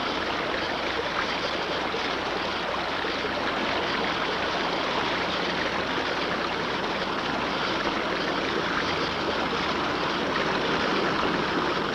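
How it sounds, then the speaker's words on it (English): Steady rushing river current churns and splashes continuously, as water turning a water wheel would; the broad wash of flowing water holds at an even level throughout with no talk. "one ingenious type used the current of the river itself to turn the wheel and lift the water up to the field"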